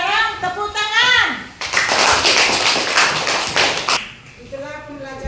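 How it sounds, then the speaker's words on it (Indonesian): Schoolchildren clap hands in an elementary school classroom, a dense burst of about two seconds between stretches of adult and child speech. "Sekarang tepuk tangan."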